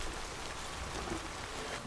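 Timefall rain in the video game Death Stranding hisses as a steady, soft wash of falling drops, quiet and even with no voices over it.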